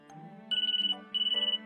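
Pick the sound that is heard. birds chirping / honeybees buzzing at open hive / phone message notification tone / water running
phone message notification tone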